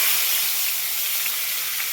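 Spices tossed into hot oil with tempering give a loud, continuous hiss and sizzle that stays close and even throughout, with no talking.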